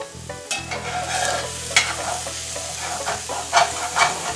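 Sausage being chopped and stirred in a frying pan for hillbilly hash, with a steady sizzle under repeated scraping and clacking of a utensil against the pan bottom, close up with no talking.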